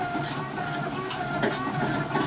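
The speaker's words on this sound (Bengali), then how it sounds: "দেখুন মাথায় গুটি দানা, উন্নত মানের মেশিন, উন্নত কোয়ালিটির বাতাসা হচ্ছে। দেখুন মেশিনের তৈরি" A batasa sugar candy making machine runs at a production site in Palasi, Paschim Medinipur, West Bengal, giving a steady, dense mechanical whir and rattle that stays close and continuous throughout, with no voices.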